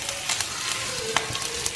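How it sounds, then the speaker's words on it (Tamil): Curry leaves sizzle and crackle steadily in hot oil in a pan for tomato sambar, a close, continuous fry with sharp pops scattered throughout. "இப்போ இதில் வந்து கருவேப்பிலை போட்டுடலாம்"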